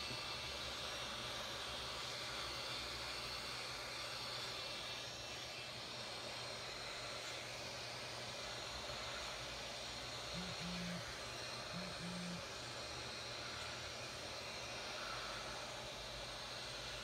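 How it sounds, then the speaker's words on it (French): A steady, even rush of blowing air from a heat gun warming a phone's touchscreen glass runs throughout, broadband and unbroken, with a faint low hum beneath. "on va se munir d'un décapeur thermique ou d'un sèche-cheveux"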